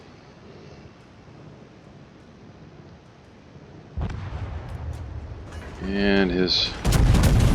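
A broadside volley of naval guns from a battleship in a naval combat video game, heavy booming blasts arriving midway and again near the end, loud over background rumble, with someone talking briefly.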